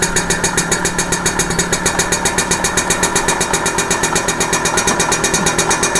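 A TVS XL moped engine revs steadily higher during carburetor tuning, a loud, close, rapid pulsing drone with an even mechanical beat that persists throughout without talk.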